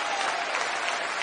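A church congregation applauds steadily, a dense, even wash of many hands clapping together, loud and continuous for the whole short stretch, with no voices standing out.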